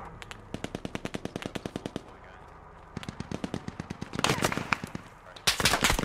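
Automatic rifle fire crackles in the video game Squad during a firefight at a petrol station, steady bursts of rapid shots followed by louder, denser volleys near the end, with no voices over it.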